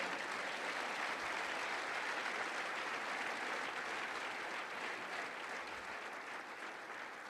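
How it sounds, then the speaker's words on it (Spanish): A church congregation at a Spanish-language sermon claps loudly, a dense, even roar of many hands that holds steady throughout with no voices standing out. "Si le va a aplaudir, apláudale fuerte."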